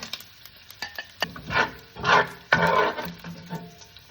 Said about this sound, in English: I'm using a slotted spoon just to place all the bacon on a plate